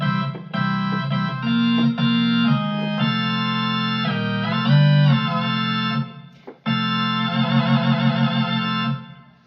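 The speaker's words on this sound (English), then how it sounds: "But the sound, that organ sound, is my computer." Organ sound generated by a computer and played from a keytar MIDI controller, a run of loud held and shifting chords with pitch bends and warbling vibrato, briefly stopping before resuming, with no talking.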